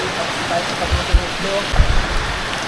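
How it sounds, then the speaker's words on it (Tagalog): Steady rain pours down in a dense, constant hiss with occasional heavier splashes and low thumps, no voices. "Hindi tumitigil ang pag-ulan."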